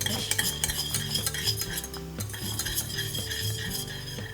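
Thick polenta bubbles and spatters in a pot over the heat, with dense popping bursts and stirring scrapes running continuously at close range, no voices.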